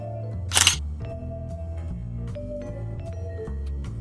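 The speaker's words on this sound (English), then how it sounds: "again with the shutter." A camera shutter fires once in a quick double click, sharp and close, standing out above steady low background music.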